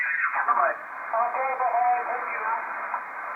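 A Spanish amateur radio station heard over HF shortwave, its faint band-limited voice warbling through a radio receiver with steady static and fading.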